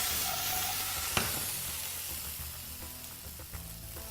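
New potatoes fry in a pan with olive oil, sending up a continuous close sizzle and hiss, broken by a single sharp clatter and a few faint knocks as they are tossed.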